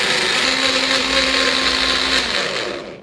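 A countertop blender runs steadily at close range, mixing a batch of homemade eco-friendly insecticide for garden aphids; a loud, continuous whir holds for nearly three seconds, then begins to wind down.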